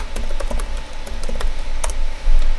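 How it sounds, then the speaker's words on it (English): Typing on a computer keyboard at a desk, steady quick key clicks close by over a constant low background hum, with no talking. "So I'm just going to double click on that and type in page 1."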